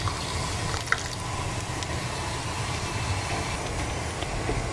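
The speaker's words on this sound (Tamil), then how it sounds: "இப்போ இதில் இந்த பருப்பு ஜெல்லத்தை ஆட் பண்ணிடலாம்." Dissolved toor dal water poured into a pot of boiling lemon rasam, a continuous liquid pouring and bubbling wash with a brief splash near the start, steady and close throughout.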